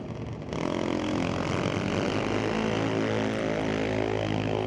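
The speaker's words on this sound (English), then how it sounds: "You hear a couple of rips of the throttle down there" Drag racing car engines rev at the starting line of an NHRA Division 6 event at Mission Raceway Park, a loud sustained roar that swells in at the start and holds steady.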